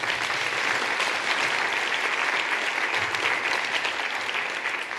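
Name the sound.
round of applause from conference audience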